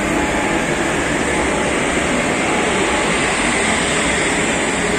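A loud, steady rumbling roar of a train at a railway station fills the air, constant and close, with no pauses.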